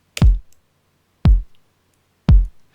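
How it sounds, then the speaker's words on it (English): Three deep electronic kick drum hits from a sample in Logic Pro, each a punchy thump with a short bright click at the attack and a quick decaying boom, spaced about a second apart with nothing between them. "An electronic kick sounds like this."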